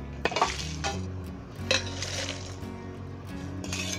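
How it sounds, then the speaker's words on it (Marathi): Crisp roasted chillies are tipped into a mixer jar, making a few sharp clinks and light rattles against the jar over quiet kitchen background noise. "आता ती मिक्सरच्या भांड्यामध्ये घेते."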